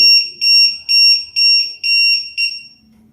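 A low-battery alarm on an RC car battery checker beeps in a rapid series of about six shrill, evenly spaced pulses, loud and close, then goes quiet.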